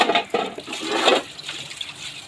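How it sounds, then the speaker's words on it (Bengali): Soot-blackened cooking pots from a clay stove getting rinsed with water, bursts of splashing and gushing water near and fairly loud, with uneven pouring surges and no speech. "এখন একটু কালিগুলো ভালো করে ধুয়ে নিব"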